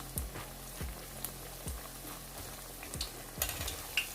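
Potato pakoras sizzle steadily in hot oil, with a handful of sharp scraping taps from a spoon turning them at irregular intervals. The sound is close and continuous, and no one speaks.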